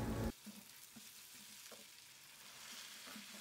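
Stuffed pepper filling sizzles softly in a pan as it is sautéed, a steady close frying hiss with faint stirring scrapes after an opening louder burst.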